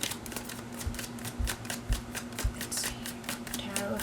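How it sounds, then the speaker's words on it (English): A deck of tarot cards is riffled and shuffled in a steady run of crisp, close flutters and light taps, over a low background hum with a faint voice. "one more shuffle, and then we are gonna get tarot to dive deep into this situation"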